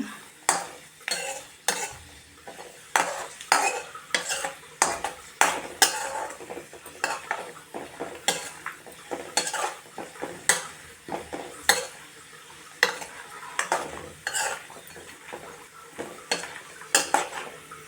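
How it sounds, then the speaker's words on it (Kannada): Carrots for carrot halwa are stirred and roasted in a pan, with a spoon scraping and clinking against the metal in quick, repeated strokes and a soft sizzle underneath, close and steady throughout. "ಇದೆಲ್ಲ ಈ ಥರ ಹುರ್ಕೊಂಡ್ರೆ ಟೇಸ್ಟ್ ತುಂಬ ಚೆನ್ನಾಗಿರುತ್ತೆ. ಸ್ವಲ್ಪ ಹುರಿಬೇಕು ಅಷ್ಟೇ."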